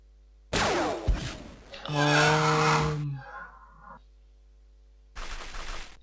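Bursts of gunfire in the game XCOM ring out in separate loud volleys with a pause between, one followed by a tonal ringing tail, and no talk over them.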